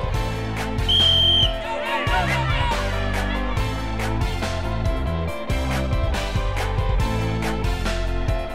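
A single short, shrill whistle blast starts a children's sprint race at a Cootamundra beach volleyball event, heard near the start over loud, steady background music.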